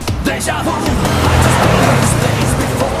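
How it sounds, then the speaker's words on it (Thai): A car roars past close by, loud engine and tire noise filling the whole stretch with a steady, rushing drone. "เสียงเสียงรถดังนิดนึงขอโทษ"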